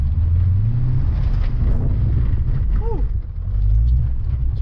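The engine of a rocket-fuel family SUV revs loudly under acceleration, a deep sustained roar with wind buffeting at close range, and the roar swells again near the end.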